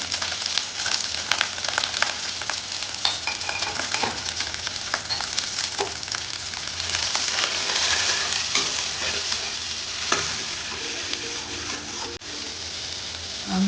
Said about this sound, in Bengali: বেগুনটা দিয়ে ভেজে নেব গরম